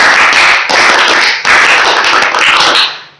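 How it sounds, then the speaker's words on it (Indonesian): A group of Indonesian scouts performs the tepuk pramuka clap, a loud, rapid patterned clapping in several bursts, each stopping abruptly and then starting again, close by and with no talking. "Tepuk pramuka."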